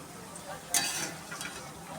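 Onions frying in oil with bay leaf and cumin seed tempering for ghugni in a home kitchen, a steady soft sizzle with a brief stirring scrape, fairly close and moderately quiet, with no talking.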